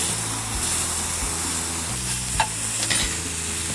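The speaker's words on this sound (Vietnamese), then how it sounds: "Chúng ta sẽ cũng chiên vàng hai mặt luôn." Pork ribs fry in a pan with a steady close sizzle and crackle, punctuated by a couple of brief sharper pops or scrapes, with no voices.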